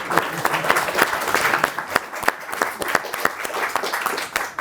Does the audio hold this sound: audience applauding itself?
yes